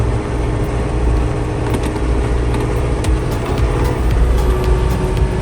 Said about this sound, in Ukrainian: Трактор набагато швидше прискорюється.